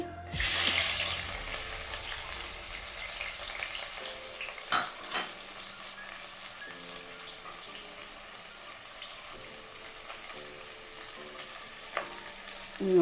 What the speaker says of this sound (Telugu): ఇప్పుడు మనం కట్ చేసి పెట్టుకున్న ఉల్లిపాయలు వేసుకుందామండి